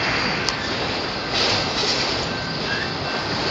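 A Canadian Pacific freight train made up of car hauler wagons rolls past close by, a steady loud broadband rumble and roar of wheels on rail with faint squeal, continuous throughout and with no talking.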